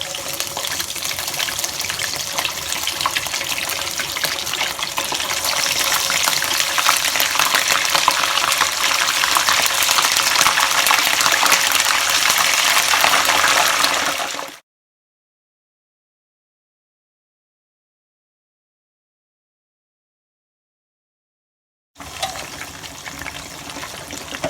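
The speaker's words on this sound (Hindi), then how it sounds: "फिश फ्राई हो रही है" Unseasoned fish deep frying in hot oil, a loud steady hiss that runs unbroken, cuts to complete silence, then resumes.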